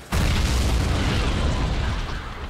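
Car explosion in the video game Stuntman Ignition, a sudden heavy boom that becomes a loud, sustained roaring rumble lasting a couple of seconds.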